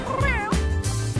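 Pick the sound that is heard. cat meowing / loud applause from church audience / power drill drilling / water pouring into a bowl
cat meowing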